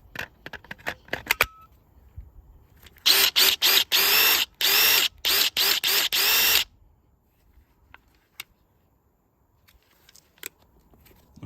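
A DeWALT DCF850 impact driver with a 5-amp-hour battery whirs in a run of short trigger pulls, loud and close, with the motor stopping and starting between bursts, followed by quiet handling clicks.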